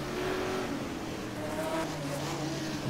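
A 1971 McLaren Can-Am race car accelerating down the straight at Mid-Ohio, a steady loud engine roar with a rising pitch, heard trackside as a continuous drone.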